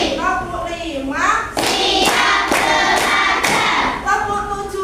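Schoolchildren in an Indonesian class do a chanted clapping routine, bursts of sharp group claps and thuds between loud young voices calling out together.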